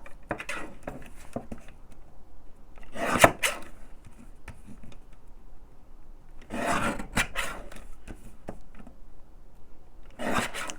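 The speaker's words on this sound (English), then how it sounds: "A little bit of guillotine noise." A paper guillotine slices leftover vellum at a crafting desk: a few rasping, scraping cutting strokes come close and clear between quieter paper handling and shuffling.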